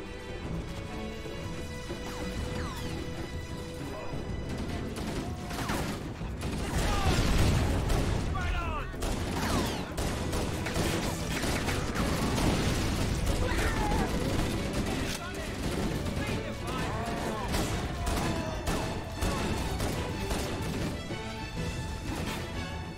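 Gunfire from the Halo: Combat Evolved campaign as pistol shots cut down grunts, with repeated sharp shots, crashes and explosive game effects packed densely and loudly throughout, with people talking over the action.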